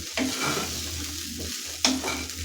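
Sabudana khichdi being stirred in a hot pan over the gas, two scraping strokes of the spoon over a steady low sizzle, close and clear with no voices.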